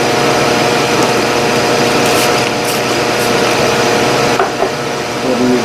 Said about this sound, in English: if this hole saw is not too dull, I may be able to cut through there